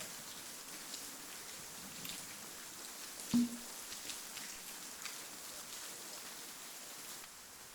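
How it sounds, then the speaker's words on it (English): Steady video-game rain patters continuously at a moderate distance, with a brief thud partway through; no one speaks. "It's raining."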